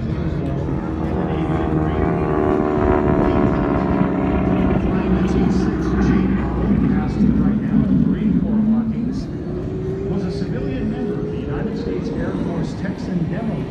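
A propeller aircraft taxiing at the San Bernardino SBD Fest 2018 air show, a steady droning engine hum under continuous announcer commentary over the PA.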